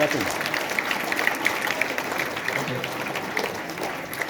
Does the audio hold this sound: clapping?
yes